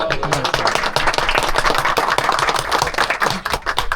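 An audience breaks into dense, sustained applause after a kemençe performance, many hands clapping loudly and steadily for several seconds, with a faint tonal hum beneath.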